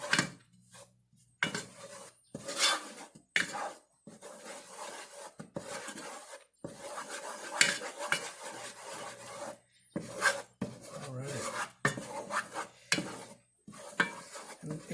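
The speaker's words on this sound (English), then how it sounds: "we're going to stir this, mix this together." Flour being stirred into a pot of cream of mushroom and snail soup with light cream, giving repeated scraping, rasping strokes in bursts with short pauses, close and moderately loud, plus faint pot clatter.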